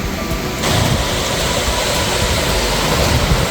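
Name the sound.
waterfall on Zugspitze Höllental route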